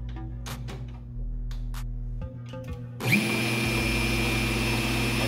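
Walter Mini IceCut magnetic base drill: a few faint clicks and a low hum, then the motor starts abruptly and runs with a steady, loud high-pitched whine to the end.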